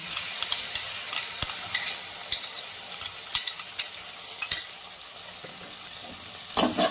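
A mustard and poppy seed paste ground with green chillies is sautéed in a pan. A soft, continuous sizzle runs under scattered sharp clicks and scrapes of a metal spoon, with no voices.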